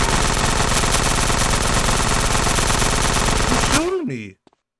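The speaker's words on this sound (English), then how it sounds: "He's shooting me." Sustained automatic gunfire in GTA San Andreas Definitive Edition, a dense, loud, continuous rattle of rapid shots for about four seconds that cuts off abruptly, followed by a falling tone and a couple of faint clicks.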